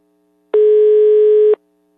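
A telephone busy tone after a dropped call, one steady pure beep lasting about a second, loud and alone against silence.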